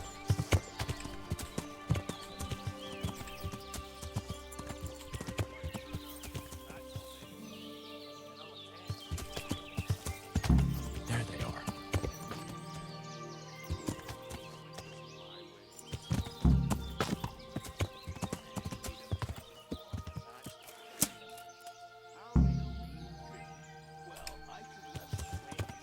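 Horse hooves clip-clopping in the medieval game Kingdom Come: Deliverance, a steady trotting rhythm with a few heavier thuds, an occasional whinny and faint birdsong over ambient music, no talking.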